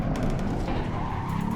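Tires skid and squeal under hard braking over a roaring race car engine in a racing simulator game, loud and continuous for a short stretch.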